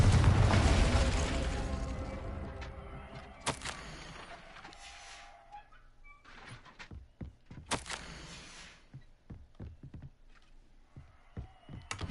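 A Confringo blasting spell detonates in Hogwarts Legacy. A loud boom opens and slowly fades, followed by scattered sharp thuds and pops.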